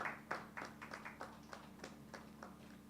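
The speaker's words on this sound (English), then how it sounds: "Round of applause, please." Sparse, very faint clapping from a few people at an award ceremony for a science prize, a handful of separate claps spread over a few seconds over a low steady hum.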